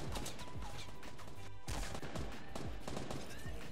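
Rapid gunfire in the video game Fortnite, dense and loud with overlapping bursts and sharp shots sounding continuously through the whole stretch.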